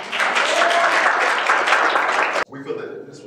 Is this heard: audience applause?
yes